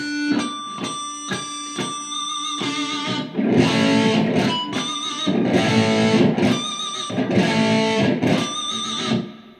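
Distorted electric guitar plays a short phrase of squealing pinch harmonics, several picked notes ringing out with heavy amp distortion and high overtones.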